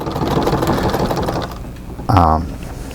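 Treadle sewing machine quilting a full-sized quilt: a steady mechanical whirr of stitching runs throughout, with a louder, brief clunk and whine near the end, fairly close.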